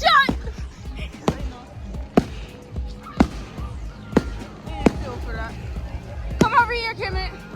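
Fireworks bursting outdoors at a public display, a series of sharp booms spaced about a second apart at middle distance, with people talking and calling out nearby throughout.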